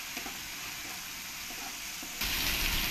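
Ginger, garlic and green chili paste frying in a pan, a soft steady sizzle at low level that swells into a louder, brighter hiss near the end.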